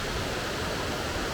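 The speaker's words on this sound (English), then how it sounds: "This is our first for real waterfall slide." A waterfall on the Daniel Ridge Loop in North Carolina rushes in a steady, even hiss of falling water, moderately quiet and continuous, with no voices.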